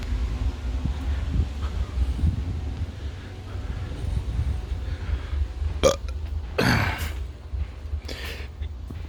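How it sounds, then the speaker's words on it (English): A man lets out a couple of close, loud burps while standing by a homemade waste oil burner heater, over a steady low rumble of wind or blower noise. "I keep burping on these films,"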